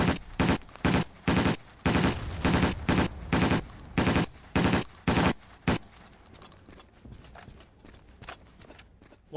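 A medic's machine gun in Battlefield 1942 on the Tobruk map fires about a dozen short, evenly spaced bursts, loud and close, before giving way to quieter scattered battle noise.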